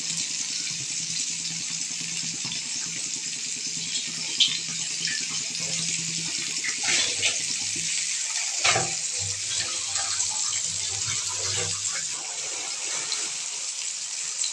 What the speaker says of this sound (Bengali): মাছগুলো, সুন্দর করে ভেজে নেবে।